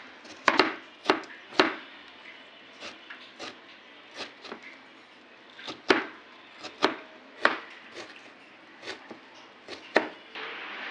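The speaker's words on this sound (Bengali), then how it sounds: "শসাটাকে কুচি কুচি করে কেটে নেব।" A knife chops a cucumber finely on a board for a homemade fuchka snack, giving irregular sharp close taps, about a dozen over several seconds, with no talking.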